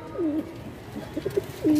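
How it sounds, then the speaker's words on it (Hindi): Border pigeons in a loft of ten coo close by, a low throaty call at the start, a few short soft notes in the middle and another coo at the end. "10 कबूतरों का लोट है भाइयों, सब बॉर्डर वाले कबूतर हैं"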